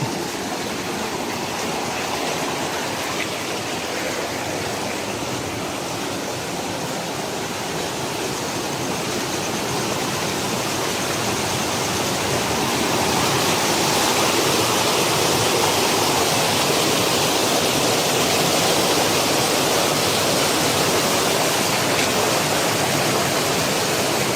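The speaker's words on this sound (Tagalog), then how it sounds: "Lakas ng agos ng tubig." A strong rushing stream of water roars in a dense, unbroken wash close by, growing slightly louder midway, with no voices over it.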